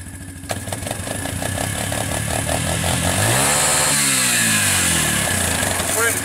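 A Suzuki Ozark 250 quad runs loud and close, its engine note steady and then rising and falling as it revs. Faint voices can be heard briefly.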